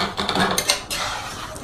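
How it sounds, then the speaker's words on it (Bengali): A spoon stirring chal kumra (ash gourd) in a cooking pot, giving a few quick metallic scrapes and clinks in the first second, then a softer steady rustle. "এখন একটু নেড়ে ছেড়ে দিব।"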